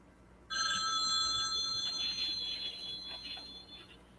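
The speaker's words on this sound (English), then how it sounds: "Again, the phone rings" A telephone in a 1980s TV drama scene rings with a bright electronic tone. It starts abruptly and holds steadily and fairly loud to the end, with no talk over it.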